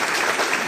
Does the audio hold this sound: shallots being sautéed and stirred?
no